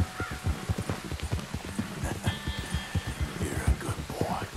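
Horse hooves clip-clop at a steady trot on a trail in the video game Red Dead Redemption 2, a close, even rhythm of quiet thuds with faint ambient background.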